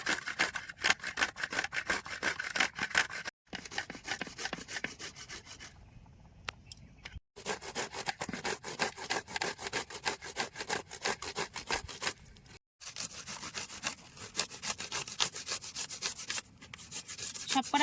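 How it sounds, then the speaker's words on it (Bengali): Pointed gourd rubbed steadily against the fine side of a hand grater in a village kitchen, a rapid continuous rasping scrape with two brief pauses, close and fairly loud, no talk. "কুচি মেশিনের সরু দিক দিয়া গইসা পটলগুলো কুচি করে নেবো"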